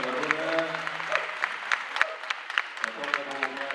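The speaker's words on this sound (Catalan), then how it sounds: "un aplaudiment per la Bruna" Applause from an audience at an outdoor dog show with trained-dog exercises, a steady patter of clapping lasting several seconds while a voice talks over it.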